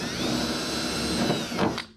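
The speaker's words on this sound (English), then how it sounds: "what we're gonna do is start drilling the rest of the holes" A power drill bores holes for a hood louver install on a car hood, whirring steadily and loud at close range for about two seconds before winding down near the end.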